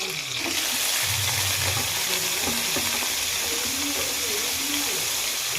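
Pieces of tender mutton from a young country ram hitting a hot pan for mutton sambar, giving a steady, loud, close sizzle that runs the whole time with light stirring beneath and no speech.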